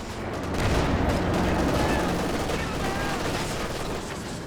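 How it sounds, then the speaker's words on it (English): Dense artillery barrage and incendiary rounds rage in a Company of Heroes 2 multiplayer battle, a continuous loud roar of overlapping gunfire and explosions that barely eases over several seconds. "Incendiary rounds working well. Major artillery dropped down as well."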